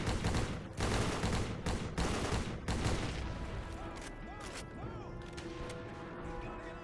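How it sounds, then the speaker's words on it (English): Rapid bursts of gunfire in a video game battle on a beach against distant machine gunners, loud and dense at first, then thinning out under ringing metallic echoes. "Taking out these machine gunners in the distance."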